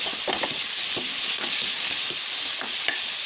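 Tomatoes hit a pan of sautéing garlic and onion, giving a steady loud sizzle with a few soft stirring scrapes, and no voices.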